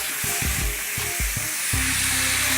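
Green vegetables stir-frying in a rice cooker: a steady hot sizzle and crackle, broken by several soft bursts as the greens are stirred, then settling into a continuous fry.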